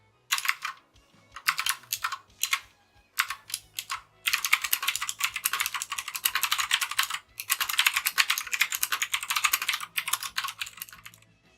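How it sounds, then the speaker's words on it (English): Typing on a Drevo Blademaster TE87K keyboard fitted with clicky Gateron Blue switches: loud, close, rapid clacking, with short separate bursts at first and then long continuous runs of fast keystrokes, no voices. "The Gateron Blue switches are loud."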